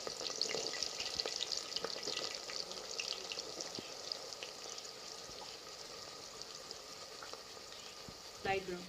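Steady sizzling of onions frying in hot oil, with occasional stirring clicks and scrapes throughout.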